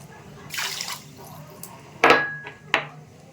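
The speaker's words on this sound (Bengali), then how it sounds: "এই বাটি মেপে আমি দেড় বাটি জল দিয়ে দিচ্ছি" Water being poured into a kadai holding a bowl of sugar, made up of a few short splashy pours and drips at close range, with one louder burst midway and a final quick splash.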